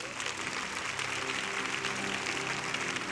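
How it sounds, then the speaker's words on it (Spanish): Congregation at a church service gives sustained applause, a continuous, moderately distant wash of clapping with faint music underneath. "Dale un fuerte aplauso al Señor."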